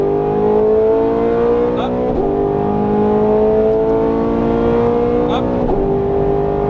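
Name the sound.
Ferrari 430 Scuderia accelerating on track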